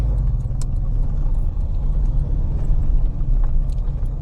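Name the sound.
car driving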